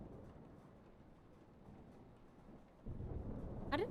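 Thunderstorm in the Life is Strange video game: a steady low rumble of rain and wind swells into a louder, heavier roll of thunder near the end, with no talk.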